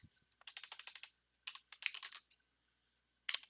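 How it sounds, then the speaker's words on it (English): Quick bursts of typing on a computer keyboard, with several short runs of key clicks separated by brief pauses, close and fairly quiet, no voices. "we're going to type download."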